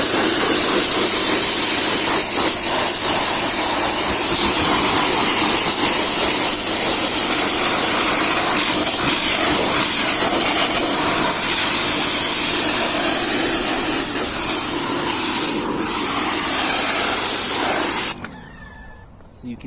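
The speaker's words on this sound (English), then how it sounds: "If you hit the pressure washer down in the crevices, it'll probably get them even cleaner." A pressure washer blasts a continuous loud hiss of spray at close range onto DeLorean wheel rims, steady for most of the stretch before cutting off abruptly near the end.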